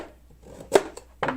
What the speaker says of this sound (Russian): Я буду нарезать морковку палочками.